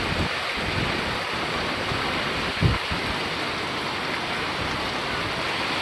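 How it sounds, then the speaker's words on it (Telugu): Heavy rain pours steadily outside a home, a dense continuous wash of noise with no pauses, close and fairly loud throughout. "ఇంతగానో భారీ వర్షం ఉందని అయితే అనుకోలే"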